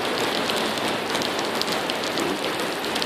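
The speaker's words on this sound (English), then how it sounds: "this is interesting, seeing everybody, you know, run from the rain." Steady rain falls outside a mall in a dense, continuous hiss of drops spattering on hard surfaces, close and even, with no voices.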